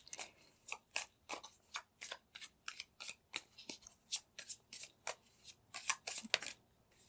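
Tarot cards being shuffled and picked, a close, quiet series of rapid riffling flicks and snaps in an irregular rhythm, with no voices.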